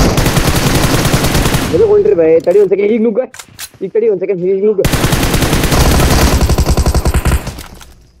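Rapid pistol gunfire from a mobile shooter video game comes in loud, dense bursts at the start and again after a pause. Excited voices talk in between the bursts.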